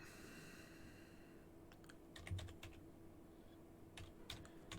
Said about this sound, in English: I'm just quickly typing something for the people at home.